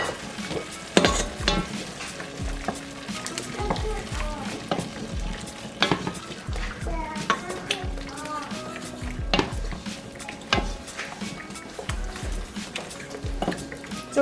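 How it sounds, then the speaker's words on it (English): Marinara sauce warming in a pan for lasagna, stirred with a utensil that scrapes and clinks against the pan under a soft, steady sizzle. Voices talk over it now and then. "So we're just gonna warm up the sauce"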